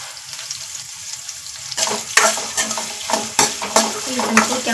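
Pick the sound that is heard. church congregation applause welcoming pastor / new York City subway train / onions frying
onions frying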